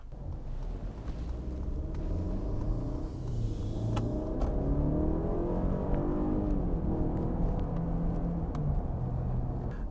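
A 2020 Mercedes-Benz GLE 350 4MATIC with its 2-liter engine pulls hard under acceleration, a steady loud low engine drone and road rumble building over about ten seconds, heard from inside the cabin with no talking.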